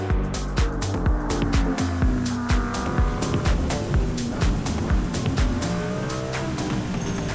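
DTM race car at speed on the Nürburgring, heard from inside: loud, rising and falling engine revs with rapid gear changes and repeated downshift blips, continuous and aggressive throughout.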